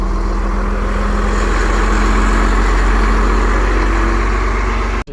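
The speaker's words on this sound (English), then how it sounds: "So this one that's moving now, it's a Volvo, I think." A Dublin Bus Volvo Olympian with a 9.6 litre turbo intercooled engine idles at a bus museum, a loud, steady low throbbing rumble close by that holds even, then cuts off abruptly at the end.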